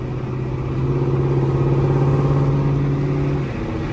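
A car fitted with a Corsa Xtreme exhaust and a catalytic converter delete idles and revs steadily, giving a loud, close, deep droning exhaust note with a slight rise in the middle.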